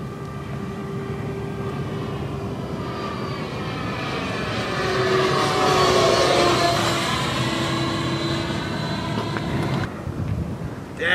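A model jet aircraft makes a slow cruising pass at partial throttle, its steady turbine roar swelling loudly as it nears mid-pass, then fading slightly as it moves away, with no talk over it.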